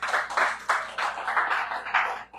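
A church congregation claps in a steady rhythm of about eight quick, loud claps, with no talk over them.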